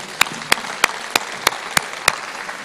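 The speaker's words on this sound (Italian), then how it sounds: "Un applauso a chi ha contato" Sharp, evenly spaced claps ring out at a steady beat, about three per second, over a low background murmur at a 2023 staged historical trial event.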